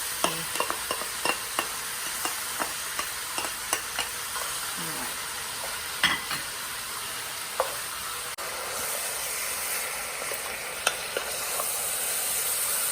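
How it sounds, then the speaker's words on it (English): Sausage and onions fry in a pan for chili while a spatula breaks them up: a steady, close sizzle runs throughout, punctuated by regular scraping taps and clicks of the spatula. "You just really need to start breaking it up with your spatula as it's cooking."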